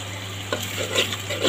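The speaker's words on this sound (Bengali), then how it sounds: "মাছের মশলাটা দিয়ে দেওয়ার পরে আমি এটাকে ভালো করে মশলাটা কষিয়ে নেব।" Spice paste for pabda fish curry being sautéed in a pan, a close sizzle with scraping stirring strokes over a steady low hum, no voices.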